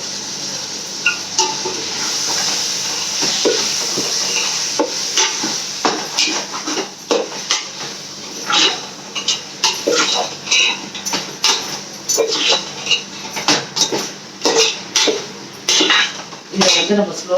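Marinated chicken goes into a pan for chicken biryani, giving a soft sizzle, then repeated metal clanks and scrapes of a spoon against the pot as it is stirred, in a close, busy rhythm.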